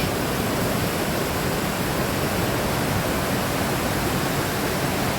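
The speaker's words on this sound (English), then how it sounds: "now we're scaling the top of the waterfall, about to look over the edge" Lucifer Falls roars from the top of the waterfall, a dense, unbroken rush of water that fills the whole scene at steady loudness, with no voices over it.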